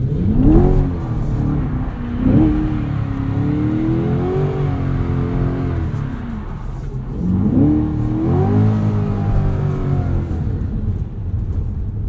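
A 2020 Chevrolet Corvette Stingray Convertible's engine hums steadily from inside the cabin while driving, with two rising revs near the start and middle.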